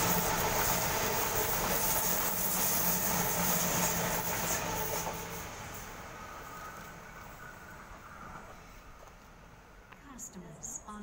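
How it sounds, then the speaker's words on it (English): A Sydney Tangara train runs through Croydon station without stopping, a loud close rush and rattle of cars that fades over the second half, leaving faint station ambience. "we have a Tangara passing, Platform 3. Does not stop at this platform."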